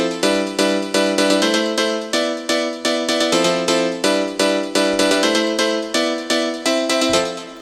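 Piano house chords programmed in Ableton, a bright piano riff hitting in short rhythmic stabs with a steady repeating pattern, close and loud with nothing else playing.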